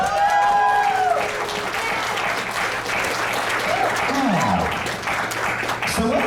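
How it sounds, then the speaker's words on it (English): A festival audience at a game show and Q&A panel at Ponyville Ciderfest 2025 breaks into loud sustained applause and cheering that fills the room, with whoops and a voice rising over the crowd. "How about a huge round of applause for Taylor and Redcard, folks?"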